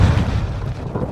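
Explosion in the video game Call of Duty Modern Warfare 2: a loud, heavy low-end boom with sustained rumble filling the whole short moment, no voices.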